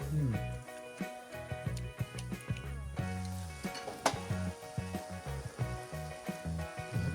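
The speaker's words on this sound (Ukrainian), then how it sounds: "Наш лосось почав уже шкварчати і піддивлювати." Salmon backbones frying in a pan give a steady crackling sizzle, with a spoken voice and tonal background sound layered over it and a few sharp clinks or taps scattered throughout.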